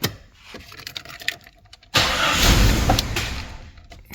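Jeep XJ engine cranking with a few faint clicks and whirs, then catching and roaring to life loudly before settling toward idle, close by with no talk.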